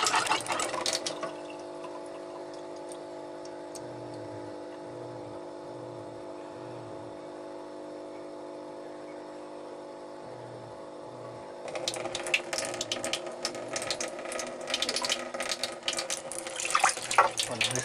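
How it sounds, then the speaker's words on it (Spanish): A filtered-water tap runs with a steady hiss, joined by a faint low rhythmic pulsing, then the flow grows louder and splashier toward the end. "Este es nuestro grifo de agua filtrada"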